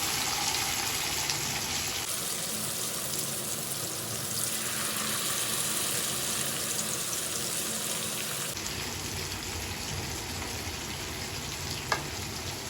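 Masala-coated fish dropped into hot oil, a steady, loud, close sizzle with crackling bubbles that carries on for the whole stretch, briefly changing tone as the pieces settle and ending with a small metallic tap.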